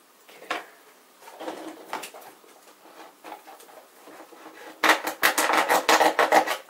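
Serrated blade of a multi-tool knife sawing through stubborn cosplay construction material, giving scattered rasping strokes that build into a louder, rapid run of close, gritty scraping at the end.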